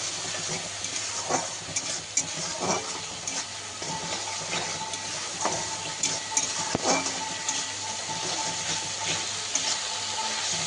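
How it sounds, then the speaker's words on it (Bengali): Spice paste for a mixed vegetable labra curry frying in a pan, a low steady sizzle with occasional scrapes and clinks of stirring, fairly quiet and without talk. "এবার আমি মশলাটাকে কষিয়ে নেবো"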